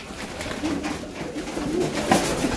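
Serbian Highflyer pigeons coo softly in a loft, with a few low, rolling calls spread across the moment and a faint background hum beneath them.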